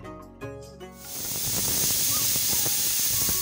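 Pressure cooker with meat inside venting steam, a faint tonal hum giving way after about a second to a loud, steady, close hiss that continues to the end, with no talking.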